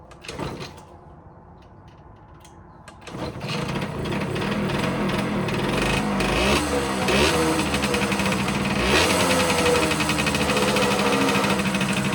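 After a quiet start with a few clicks, a Yamaha YSR50 50cc two-stroke motorcycle engine starts up and settles into a steady, rattly idle that continues loudly to the end.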